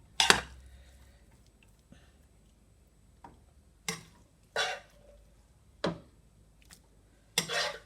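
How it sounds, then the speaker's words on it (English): Vegetables stirred into fried rice in a pot, heard as a handful of sharp metallic scrapes and clinks of a spoon against the pot, spaced irregularly with quiet gaps between them. "I'm adding all of these vegetables to my rice, guys, and stir well."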